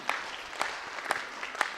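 A stadium audience claps at a patriotic gathering, a thin, fairly quiet spatter of hands with a few sharper claps standing out at roughly half-second intervals, heard at a distance with no talking.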